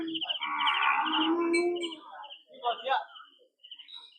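Cattle moo loudly and close at the Dong Mafai livestock market in Sakon Nakhon, Thailand, one long low call followed by shorter lowing, with birds chirping faintly around it.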